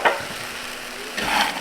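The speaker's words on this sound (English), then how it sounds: "Oh, you hear that sizzle?" Cinnamon sugar almonds sizzle loudly in a slow cooker as water is poured in and the mixture is stirred, a steady crackling hiss with a louder burst near the end.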